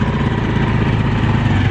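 A motorcycle carrying two riders runs close and loud with a steady, even engine buzz and no breaks.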